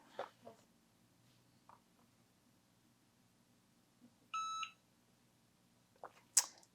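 A heat press timer gives a single short, clear electronic beep lasting under half a second in an otherwise quiet room, with faint handling noises before it and a few soft clicks and rustles after.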